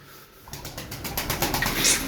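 Tumbler pigeons coo in a soft throaty burst, close and fairly loud, with pulsing repeated notes over about two seconds.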